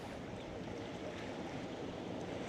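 Steady wash of water and waves at Jupiter Inlet, Florida, where boats pass through, a continuous broadband rush with light wind, close and even throughout with no talk.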